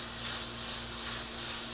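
Spray hisses steadily from a can in one continuous burst of less than two seconds, close and even in level, with no talk over it.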